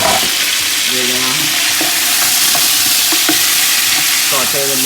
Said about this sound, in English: saute the meat really good